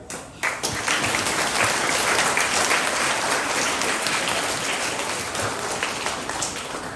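Sustained applause from a school audience at a primary school presentation day for years 3 to 6, starting abruptly and staying dense and steady throughout.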